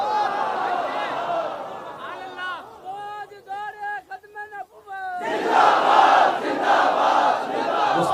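A massed crowd at a rally for a religious leader roars slogans, breaks into a rhythmic call-and-response chant of a few strong voices, then swells back into a loud, sustained roar.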